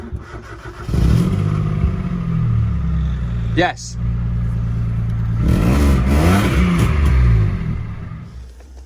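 A Citroen C1 small petrol engine cranks and catches, then idles and is revved twice in rising, falling sweeps at close range after an ECU swap, with brief speech between the revs.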